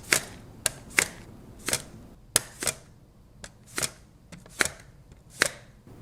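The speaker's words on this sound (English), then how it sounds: "Slice each potato down." A knife slices down through raw potatoes for skewered baked chips, giving a series of about a dozen sharp, crisp cuts at an uneven rhythm, close and clear against a quiet background.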